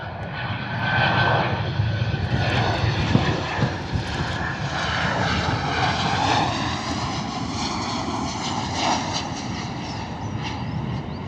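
A Ryanair Boeing 737 comes in to land, a loud, steady jet engine roar with a shifting whine that stays close and unbroken throughout.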